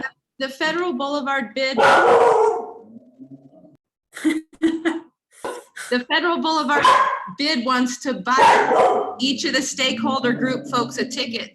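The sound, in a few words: dog barking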